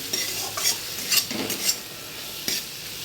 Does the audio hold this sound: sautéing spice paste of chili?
yes